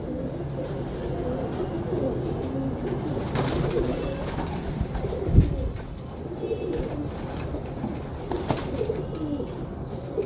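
A flock of pigeons keeps up a low, continuous cooing close by, with a sharp thump midway and faint voices now and then in the background.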